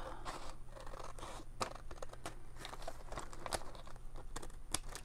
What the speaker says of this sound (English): I'm going to take this and cut it as straight as I can eyeball it